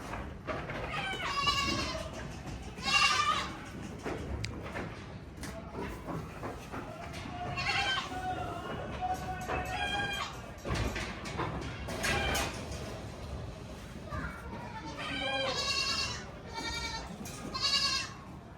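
Young goats bleat repeatedly at a farm during deworming, their wavering cries overlapping in bursts close by, with little or no talk.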